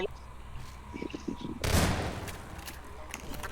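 A loud burst of gunfire in Half-Life 2 erupts suddenly after quieter footsteps and movement, then fades into a few scattered shots and lingering noise, with no talking.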